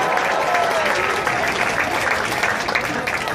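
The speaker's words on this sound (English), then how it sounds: "Let's hear it for Sloppy Joe" A crowd applauds and cheers at a pig race at the OC Fair, a dense, steady roar of clapping that holds for the whole stretch, with a faint voice mixed in.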